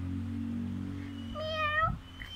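A single drawn-out cat meow, clear and fairly close, rising then falling, over a low steady hum.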